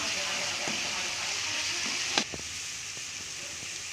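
Green chilli and garlic sauté in a pan with a steady close hiss of sizzling, broken by one sharp scrape or clink of a utensil midway and a few softer stirs.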